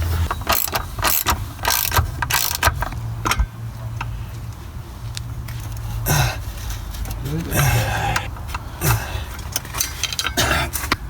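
On a BMW E46 during a clutch and solid flywheel job, a ratchet tightens drive shaft bolts. It makes bursts of close, clicking ratchet strokes with metallic clanks and pauses between runs.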